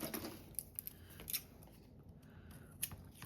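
Scissors trimming the sides of packaging paper for a scrap-paper pocket craft, a series of crisp, close snips and paper rustles at an uneven pace, with no one talking.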